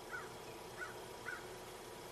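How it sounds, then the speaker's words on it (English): A crow calls three times at a steady pace from a distance, the caws faint against a constant background hiss of wind or distant noise in an outdoor wooded setting. "I'm hearing the crow."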